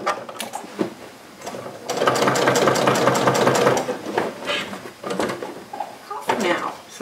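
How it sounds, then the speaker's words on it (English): Sewing machine stitching along the inside of a fabric tube for a Christmas tote, a steady mechanical whirring that swells to a sustained run in the middle, with bursts of talk in between. "I'm just sewing inside of the tube"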